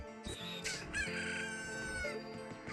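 A Cucco chicken in The Legend of Zelda: Majora's Mask gives a clear, close crowing and clucking call, several rising and falling squawks sounding alone over quiet game music.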